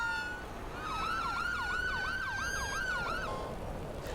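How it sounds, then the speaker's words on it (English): Emergency vehicle sirens in the city-building game Cities: Skylines, several overlapping wailing tones rising and falling in fast cycles, loud and close, fading out near the end. "They're using different sirens and it just sounds so good"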